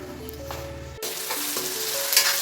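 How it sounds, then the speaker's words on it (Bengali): Onions for a mutton curry fry in a pan with a close, steady sizzle and a little stirring. No one speaks over it. "আমার পেঁয়াজটা বেশ লাল লাল করে ভাজা হচ্ছে"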